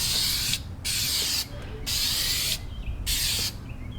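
Dupli-Color tire paint sprayed from an aerosol can onto a tire and rim in loud, close hissing bursts, four spurts separated by short pauses.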